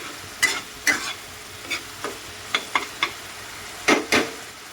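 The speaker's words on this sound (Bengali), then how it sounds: "তো মশলাটা দিয়ে এখন ভালো করে কষাবো" Spice paste for chicken biryani frying in a pan as a utensil stirs it, giving a series of distinct scraping strokes over a low, steady sizzle, close up with no talking.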